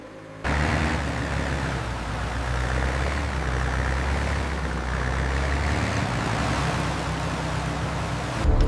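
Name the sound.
drainage pumps running on restored monster truck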